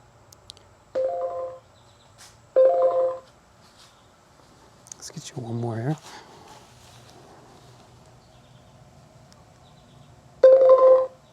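Segway Myon e-bike prompt sounds: several short electronic beep tones spaced a few seconds apart, plus a brief warbling chime, fairly clear over a quiet background with a short spoken remark in between.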